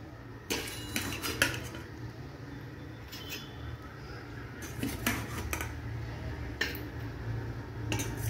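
Green banana curry being served, spoons and ladles clinking and scraping against metal dishes and pots in a home kitchen; close, irregular sharp clatters over a steady low fan hum, with no talking.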